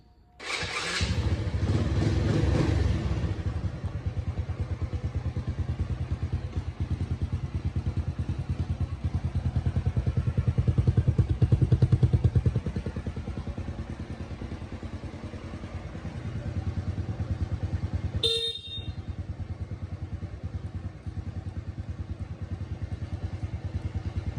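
A used motorcycle starts with a brief cranking burst, then settles into a steady, close mid-pitched idle that swells slightly before easing, with a short sharp clatter near the end.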